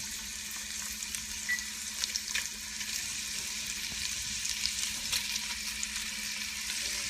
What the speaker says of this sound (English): Okay, so the sausage has been browning and it's ready to come out.